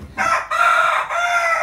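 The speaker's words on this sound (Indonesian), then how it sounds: "Ayam kalau sudah sore tetap juga berkokok ya." A rooster crows in the late afternoon, one loud, close call split into a few sustained phrases with brief gaps.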